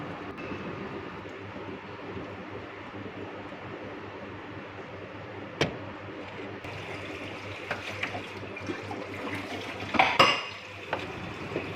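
Dishes, pots and cutlery clinking and scraping during kitchen washing-up, with running water hissing steadily and occasional sharper clanks near the end.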